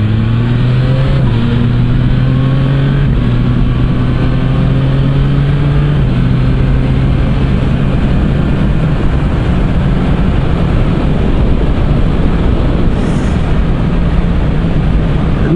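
A 2024 Yamaha MT-09 SP motorcycle with an Akrapovic exhaust runs steadily nearby while ridden slowly, its pitch stepping down several times early on as gears downshift, then settling into a constant rumble.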